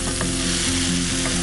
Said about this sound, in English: So now I'll be adding 150 grams of finely chopped tomatoes. Just mix it up and cook it for about 3 to 4 minutes.